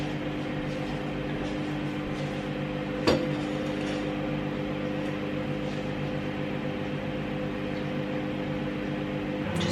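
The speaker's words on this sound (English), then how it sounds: "Just waiting for the microwave to beep any second now" A microwave oven heating rice, a steady low electrical hum with a brief clunk partway through, close and constant throughout.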